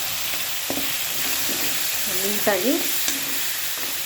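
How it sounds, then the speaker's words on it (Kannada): Chopped tomatoes and coriander fry in a hot pan with a steady sizzle, while a spoon scrapes and stirs in a few short strokes; a brief spoken word sits over the cooking noise. "ಟೊಮೊಟೊ ಎಲ್ಲ ಚೆನ್ನಾಗಿ ಫ್ರೈ ಆಗಬೇಕು"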